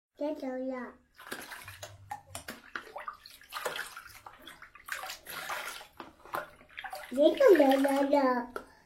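Water fills and sloshes in a bathtub as a young child's bath is prepared, heard in short splashes and gurgles between an adult and someone talking close by.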